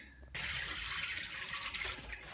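An AEG tumble dryer condenser clogged with dust and lint being rinsed under a sink tap; the water turns on abruptly after a brief pause and then rushes steadily and close.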